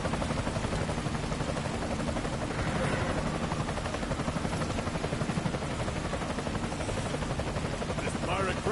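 A helicopter in a Metal Gear video game, a loud, continuous rotor chop and engine roar filling the whole stretch, with voices talking over it.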